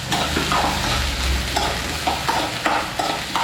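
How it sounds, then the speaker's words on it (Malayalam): Sliced onion dropped into hot oil with mustard seeds, frying with a loud continuous sizzle while a spatula stirs and scrapes the pan in repeated strokes. "അങ്ങനെ കടുകിട്ട് ചൂടായില്ലേ അപ്പം അതിലോട്ട് സവാള ഇടാം സവാള ഇട്ട് ഒന്ന് ഇളക്കി കൊടുക്കാം"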